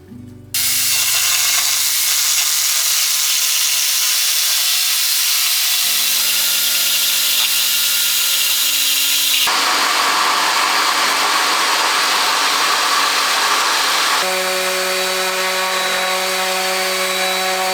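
A power tool cuts out a wooden overhead shelf for a van, buzzing loudly and continuously with shifts in pitch and tone as the blade works through the wood, no talking.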